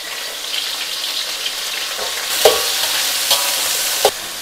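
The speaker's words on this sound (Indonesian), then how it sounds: "Sekarang saya nak masukkan bawang." Onion dropped into a hot pan and stir-fried, a continuous close sizzle with a few sharp clinks of a utensil against the pan.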